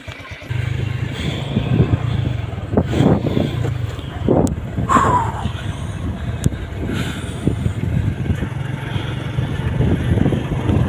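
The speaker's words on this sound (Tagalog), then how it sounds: "Sakyan na kami ng motor." Riding a motorcycle on a hot, sunny summer road in Mindanao, heading home to San Roque past rice fields: a steady low engine drone with wind buffeting the microphone, continuous and close for about eleven seconds.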